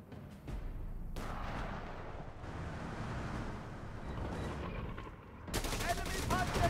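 Sustained battlefield gunfire from Company of Heroes 3, rattling machine gun bursts and wind-like rumble filling the whole stretch, growing denser toward the end, with shouted voices mixed in.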